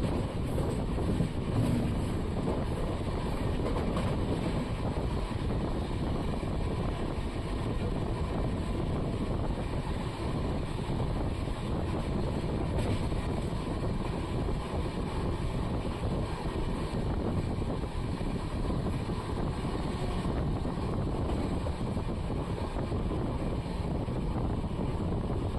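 A passenger train runs through Malkhed Road railway station without stopping, heard from on board as a steady, loud, unbroken rumble mixed with rushing wind noise that holds constant for the whole stretch.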